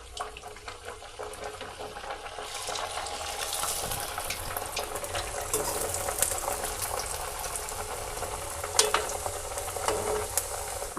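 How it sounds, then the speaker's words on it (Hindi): Puris deep-frying in hot ghee for a Navratri fasting recipe, a steady close bubbling sizzle with crackling pops that grows denser after a few seconds, heard without talk. "हम इसमें बिल्कुल 2 से 3 पूड़ियाँ ही डाल के तलेंगे"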